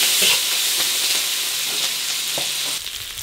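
Sichuan peppercorns, ginger, garlic and green and red peppers frying in a hot iron wok, a loud, steady, dense sizzle with faint scraping, fading slightly at the end.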